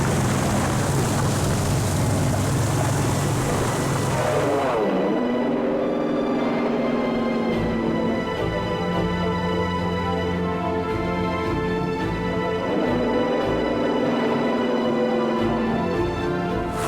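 Propeller plane engine droning steadily while flying in Tomb Raider 2, with a continuous buzzing hum whose pitch sweeps up and down as the aircraft maneuvers, loud and alone without talk.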